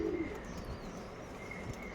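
Young Lambadi pigeons at a loft give a soft, low cooing near the start, then the sound fades into a steady hum of room and outdoor noise with no talk.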